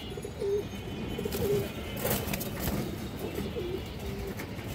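Pigeons coo repeatedly at a bustling pigeon market, soft rolling calls rising and falling close by over a steady murmur of crowd noise.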